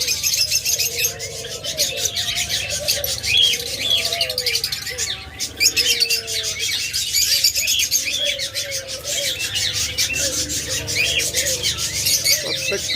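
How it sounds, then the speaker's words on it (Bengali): Caged pet budgerigars, diamond doves and lovebirds chirp and tweet continuously, a dense, busy aviary chatter with some wing flutter and cooing, close and steady throughout with no talking. "চমৎকার কিছু পাখি রয়েছে, দেখুন"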